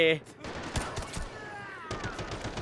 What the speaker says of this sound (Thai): เสียงปืน AK